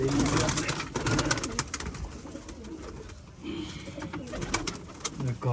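Pigeons coo softly amid rustling and shuffling noises, with people talking intermittently nearby.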